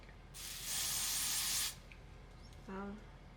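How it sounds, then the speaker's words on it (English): A can of lace bond spray hisses in one sustained burst of about a second during a wig install, followed by a brief rattle and a faint short sound; quiet and close. "I'm going to take this lace bond spray again, and I'm actually going to spray it"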